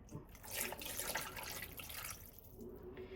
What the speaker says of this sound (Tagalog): Tapos lagyan po natin siya ng tubig.